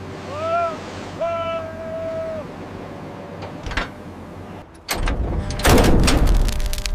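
Ocean waves with wind buffeting the microphone, calm at first with a faint tonal sound, then a loud surge of surf and rushing noise in the last couple of seconds.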